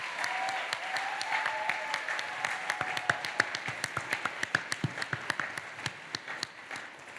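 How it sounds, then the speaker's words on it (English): An audience at an awards presentation applauds the top national corporate team, Choate Construction, with a sustained round of dense clapping that thins into a few distinct, louder claps near the end. "let's give a round of applause for our top national corporate team"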